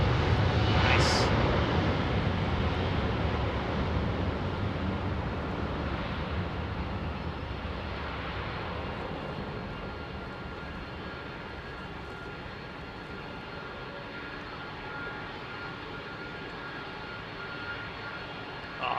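A Singapore Airlines Airbus A380 on approach to London Heathrow gives a long, broad engine roar, loudest at first and then slowly fading as it passes.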